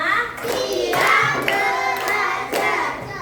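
Schoolchildren clap in a classroom clapping game, sharp hand claps landing in short counted bursts amid overlapping young voices and chatter.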